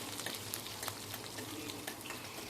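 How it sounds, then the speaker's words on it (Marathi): Green chillies fry in hot oil for a dal and spinach dish, giving a steady, dense sizzle with faint crackles and light stirring, close and continuous with no talking. "मिरची यासाठी आधी घालत आहे कारण मिरची चांगली फ्राय करायची आहे तेलामध्ये"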